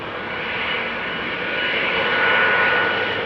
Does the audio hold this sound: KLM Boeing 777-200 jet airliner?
yes